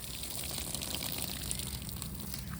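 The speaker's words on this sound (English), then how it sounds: "I water this little area down here because they like to lay here" A hose sprays water onto a patch of ground in a shaded yard, making a steady, close hiss of spray and splatter that holds even throughout with no talk.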